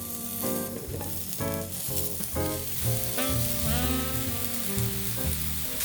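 Mushrooms sear in a very hot pan with a little oil, giving a steady loud sizzle and crackle throughout, with occasional stirring and scraping on top.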